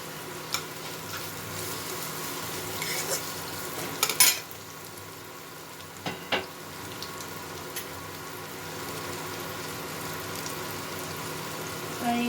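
Chopped chilli frying in a pan, a soft steady sizzle with a few brief utensil scrapes and taps as it is stirred, fairly faint and close, no talking.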